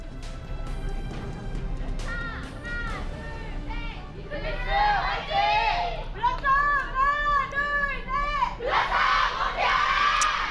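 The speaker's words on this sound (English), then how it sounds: "that was a pretty concise little cheer they got going on there" A crowd of esports fans at an Overwatch World Cup 2018 match in Korea chants a short rhythmic team cheer, voices rising in repeated bursts that swell loudly over ongoing commentary and background chatter.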